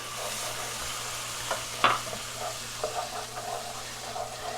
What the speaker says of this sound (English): I'm just going to continue heating this, stirring until the vermouth is evaporated